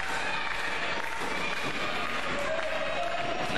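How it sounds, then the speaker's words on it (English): A wrestling crowd at a Liberty States Wrestling match between Todd Hanson and Vinny Marseglia cheers and applauds in a steady, dense roar throughout, with a commentator's voice faintly mixed in. "Crowd still behind the champion."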